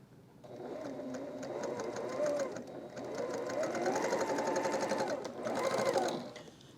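A sewing machine stitches a mini quilt at a slightly shortened stitch length, whirring close by in three steady runs separated by brief pauses.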